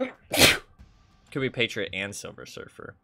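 A single sharp sneeze bursts out near the start, short and loud, followed by a pause and then a person talking about a card game.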